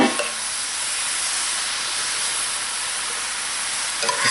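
Pork, bacon and cabbage sizzle and hiss loudly while being stirred in a hot pan, a dense, even frying crackle heard close, with a slight scrape of stirring at the start and end.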